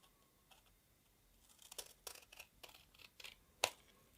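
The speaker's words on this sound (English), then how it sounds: "And then you cut straight in from this edge here to that point," Scissors cutting paper while making a paper SU-57 jet, a sparse series of quick crisp snips and rustles growing closer together, with one sharp louder snip near the end, close and otherwise quiet.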